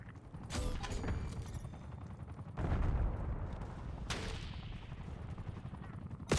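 Gunfire in Call of Duty Black Ops 6 during a hardpoint match: several loud shots and bursts ring out over a noisy, rumbling battle backdrop.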